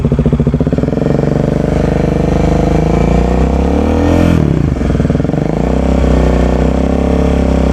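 A Bajaj Dominar 400 single-cylinder motorcycle is revved to 4,000 RPM. The engine starts at a loud, close, thumping idle, climbs to a held rev, then drops back to a pulsing idle, with no talk over it.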